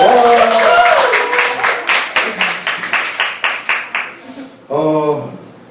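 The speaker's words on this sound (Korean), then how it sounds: "많이 와주셨다고 하시면 박수 한번 부탁드립니다" Audience at a Korean political philosophy book talk claps in a brief burst of rhythmic hand claps that fades into separate claps, followed by someone speaking near the end.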